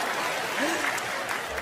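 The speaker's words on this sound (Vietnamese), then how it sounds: "Nào vỗ tay đó." An audience applauds at a comedic storytelling performance, a brief, soft spell of clapping with a voice speaking over it.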